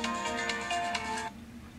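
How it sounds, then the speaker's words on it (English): An MP3 ringtone preview plays from a Samsung Galaxy S7 phone, a brief tonal musical snippet with rhythmic pulses that cuts off abruptly after about a second, followed by quiet. "you can select the MP3 you want to use as your ringtone"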